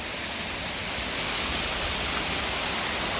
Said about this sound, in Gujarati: આ જટાશંકરનું પાણી જાય જો